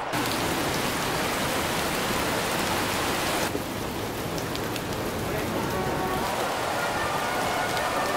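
Steady, dense rain falls at the Melbourne Cup on race day, a continuous hiss of drops that thins slightly partway through, with nothing else standing out above it.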